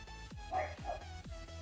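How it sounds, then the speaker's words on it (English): Several short dog barks and yips repeat at an uneven pace, sounding a little distant over a steady hum of background noise. "Sorry if you can hear my dogs barking too."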